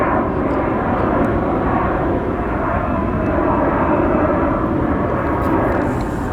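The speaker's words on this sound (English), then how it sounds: "we have a departure on the opposite runway for an Alaska Horizon" An Alaska Horizon ERJ-175 regional jet departs from the runway at Portland, its engines giving a steady, loud, broadband roar that holds throughout.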